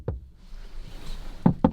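Hollow knocks on a Citroen C1 door panel: one knock, a pause, then two quick knocks close together, near and fairly sharp.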